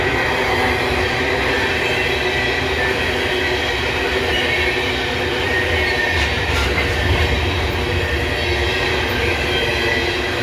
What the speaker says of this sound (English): Alright, that's my first train today.